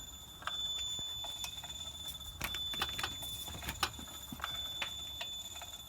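Motorized throttle body on a Nissan S14 SR20 engine cycling through its full 0–100% travel in self-test, giving faint rapid clicks and ticks over a high electronic whine, close and quiet, with no talking.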